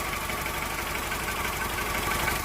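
A VW/Audi-group car engine with a suspected faulty ignition coil idles steadily at close range, a continuous mid-pitched hum with slight vibration and no voices.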